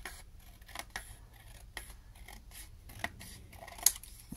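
Scissors trim the white edge off a large paper gift tag, giving a few quiet snips and rasping cuts up close, ending in one sharper snip.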